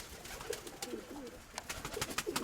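Soft, low coos from a courting pigeon repeat faintly among scattered clicks and flutters, a few throaty calls spaced irregularly nearby.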